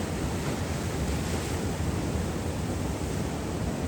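Ocean waves break along the lava-rock Kona coast of Hawaii during the first winter swell, making a steady broadband roar of surf that sounds moderately distant, with wind noise mixed in and no voices.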